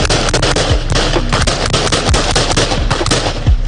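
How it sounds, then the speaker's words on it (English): Rapid gunfire from a police officer's rifle, dense overlapping loud bangs in quick succession throughout, harsh and close, with no talking. "the officer opens fire."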